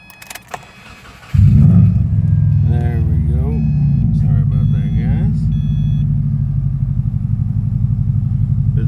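A 2009 Subaru Impreza WRX hatchback cranks briefly, then its engine catches with a loud rumbling start and settles into a steady, throbbing idle heard up close, preceded by a few clicks and a jangle of keys.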